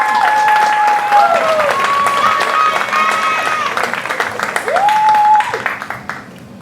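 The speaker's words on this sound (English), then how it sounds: "These deserving students a big round of applause." An audience at a school honors night awards ceremony claps for scholarship recipients. The applause is lively and close, with whistles and cheering voices mixed in, before it trails off to a few scattered claps.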